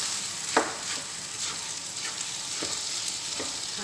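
Food fries in a pan with a constant soft sizzle while a utensil stirs it, adding a few quick scraping strokes at uneven intervals, close by and without speech.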